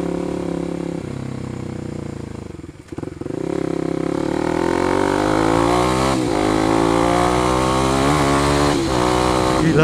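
Kawasaki KLX 250 supermoto motorcycle engine braking on a test ride, a loud close engine note with a brief dip, then steady droning and shifting revs for several seconds.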